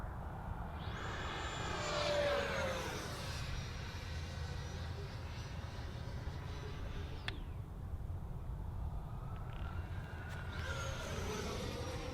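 An FMS Super Scorpion 90mm EDF model jet roars at full throttle, a steady broad whine with a passing sweep, fairly distant and faint, with no talk over it.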